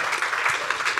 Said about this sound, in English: can we just share with him through applause